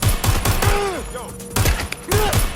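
Gunshots in the video game Watch Dogs Legion, several loud sharp cracks in irregular bursts, with a voice talking between them.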